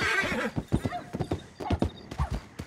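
Horse in the Western roleplay game Red Dead Redemption RP whinnies loudly at the start, followed by a run of sharp, uneven hoof clops close by, with no talk over it.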